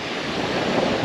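Wind and surf roll across Búzios beach on a chilly, breezy morning, a dense steady wash of breaking waves and gusty rumble with no voices.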